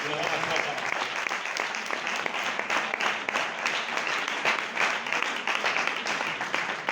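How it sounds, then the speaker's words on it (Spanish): A church congregation at a Spanish-language worship service applauds in a sustained, dense roar of handclaps that holds steady throughout, with voices shouting and calling out beneath it. "Un fuerte aplauso para Dios"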